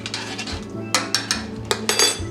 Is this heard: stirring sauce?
yes